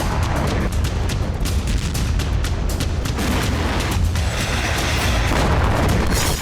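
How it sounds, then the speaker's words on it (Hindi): Anti-aircraft gunfire and explosions during an attack on Kharkiv, a loud continuous barrage of rapid booming shots and blasts with no break, dense and harsh throughout. "रूसी सेना ने एंटी एयरक्राफ्ट गन से खार्किव पर हमले किए"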